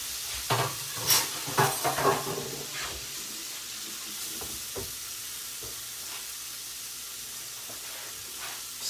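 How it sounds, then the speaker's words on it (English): Gnocchi searing in a hot pan with a small amount of fat, a continuous close sizzle and hiss with occasional stirring scrapes near the start, heard without talk. "So we're searing again."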